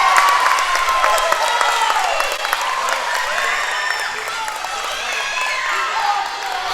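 A junior high team cheers and claps at a varsity volleyball game in a gym, a steady crowd wash with scattered applause and shouts, while a commentator talks over it.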